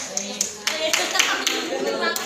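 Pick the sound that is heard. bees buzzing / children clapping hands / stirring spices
children clapping hands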